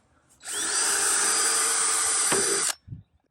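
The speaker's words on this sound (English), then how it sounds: "drill 1/8 inch holes all the way around this thing" A single burst of a power drill whirring at high speed for about two seconds, close up, drilling 1/8 inch holes, ending abruptly with a faint knock afterward.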